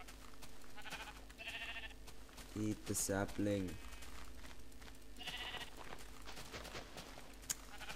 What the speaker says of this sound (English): There are a lot of sheep around here.